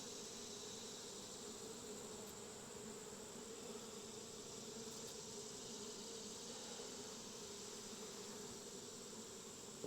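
Honeybees drone steadily in an open hive being smoked during an inspection, a dense, even buzzing hum from many bees, close and continuous throughout.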